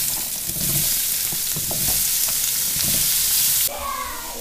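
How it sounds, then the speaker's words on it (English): Vegetables and turnips sear in hot bacon fat in a pan, giving a loud, steady sizzle with a few scraping stirs; the frying drops off sharply near the end. "I do want to get them to sear on the downside."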